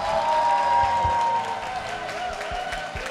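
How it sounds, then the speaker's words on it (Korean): A Full Gospel church congregation applauds its church and senior pastor, a dense wash of clapping mixed with crowd voices and low thumps that eases slightly after the first second and a half. "교회와 담임 목사님을 위해서 힘찬 박수 부탁드리겠습니다"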